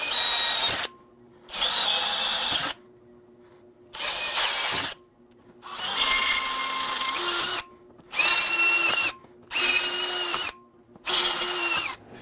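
A power drill bores a larger 1/4-inch-bound hole all the way through a motorcycle top-case shelf, whirring in about seven loud, close bursts separated by short silences, with speed shifting within each burst.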